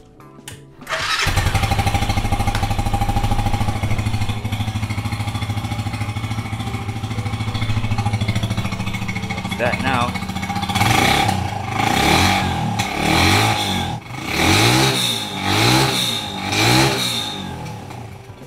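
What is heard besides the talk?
Bristol 250 motorcycle engine running, standard exhaust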